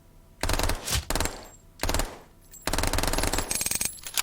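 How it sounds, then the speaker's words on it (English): An MP5K submachine gun in the VR game Triton VR fires loud, rapid automatic bursts, three separate strings of shots with brief pauses between them, close and alone. "So this basically here is a MP5K"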